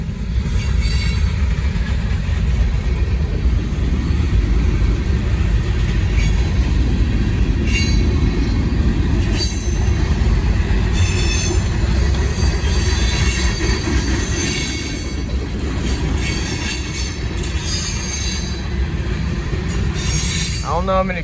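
A long freight train rumbles by close and loud, with high metallic wheel squeals cutting through the steady roll of the cars.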